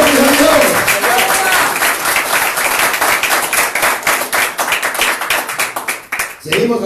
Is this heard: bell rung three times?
no